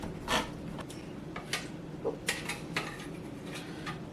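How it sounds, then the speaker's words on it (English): A spoon scrapes and clinks against a bowl while it mixes the ingredients for funeral potatoes, a potato casserole, giving a few irregular close knocks and scrapes over a low room hum. "with your spoon, you can start mixing it in"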